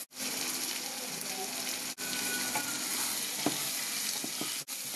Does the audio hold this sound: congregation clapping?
no